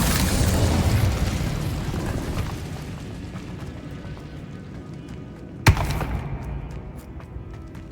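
Incendio fire spell cast in Hogwarts Legacy, a dull rumbling burst with a sharp crack partway through, then a fading roar, loud and close.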